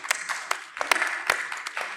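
A conference audience gives light applause as a development bank president is introduced, a thin patter of scattered claps, fairly close and steady, with no talking over it.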